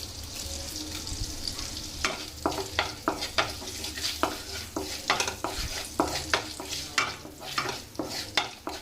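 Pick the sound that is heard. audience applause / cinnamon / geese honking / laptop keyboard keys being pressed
cinnamon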